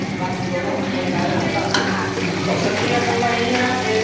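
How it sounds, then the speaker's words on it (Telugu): Green chillies and onions frying in a pan for vegetable rice, stirred with a spoon; a steady close sizzle runs throughout with soft scraping and one brief clink, and no speech. "మిరపకాయలు ఉల్లిగడ్డలు ఉల్లిగడ్డలు వేసి మంచిగా కలుపుకోండి"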